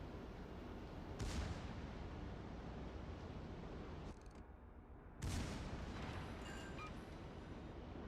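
Secondary guns of a warship booming in a naval combat game: continuous heavy rumble of gunfire with two sharp, loud blasts, one early and one after a brief lull, no talking.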